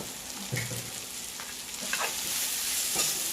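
Curry paste with lemongrass and kaffir lime leaves sizzles softly in oil, stirred with a few scrapes and clinks, the frying hiss swelling slightly toward the end.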